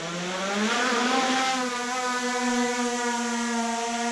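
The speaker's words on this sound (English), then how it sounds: "now I just press and hold to take off" A Skydio 2 drone's propellers spin up for takeoff. They make a smooth whine that climbs in pitch, then hold a steady, close, buzzing tone.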